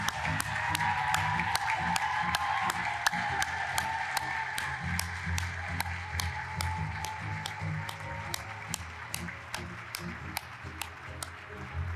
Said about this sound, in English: Finalists, please stand up so we can applaud each and every one of you.